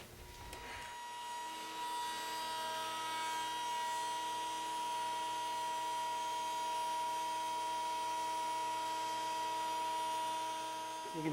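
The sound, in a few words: router bit plunge-cutting a shallow dado in a board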